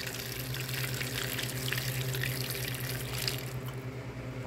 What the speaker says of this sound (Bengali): ফুটানো গরম পানি